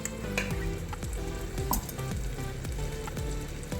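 Tomatoes and okra sizzle in a pan for papaya sambar, a dense steady frying hiss with rhythmic stirring scrapes under it.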